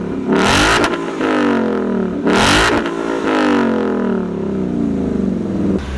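A 2016 Ford Mustang GT performance pack V8 with a Roush exhaust rumbles loudly, with two sharp revving surges followed by a long, steady, gradually descending engine drone.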